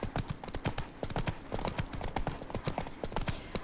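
Horse galloping in The Witcher 3, a steady rapid run of hoofbeats clattering close and loud throughout, with no speech over it.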